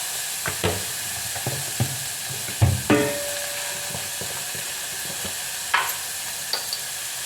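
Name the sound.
carrots and vegetables sautéing with stirring in a pan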